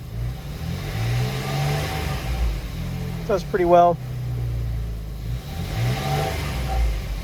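Jeep Wrangler engine idling and revving steadily under ongoing talk, with a brief rising rev burst in the middle, heard up close during throttle and accelerator position diagnostics.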